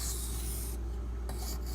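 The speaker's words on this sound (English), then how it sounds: "I'm going to alternate my strokes and try to get most of that burr broken off" Knife blade drawn across a sharpening stone in alternating strokes to break off a burr, giving a close, dry rasping scrape with a few short pauses between strokes and no voices.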